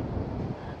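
Strong mountain wind on Fansipan peak in Sapa, Vietnam, buffeting the microphone with a steady low roar throughout a brief moment, no voices heard.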